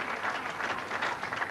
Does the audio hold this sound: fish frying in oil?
no